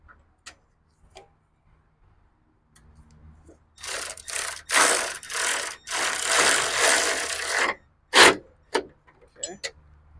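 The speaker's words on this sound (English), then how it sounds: "Now we are going to put the bolts back on." Ratchet tightening bolts on a 2007-2011 Honda CR-V headlight: quick bursts of close, rapid clicking with short pauses between strokes, after a few isolated ticks.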